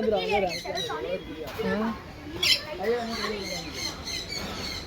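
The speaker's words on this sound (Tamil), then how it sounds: "இந்த குருவி கூப்பிடு வருதா பார்க்கலாம்" A bird at the Trichy bird park gives a series of close, scratchy squawks and chirps, mixed in with people talking nearby.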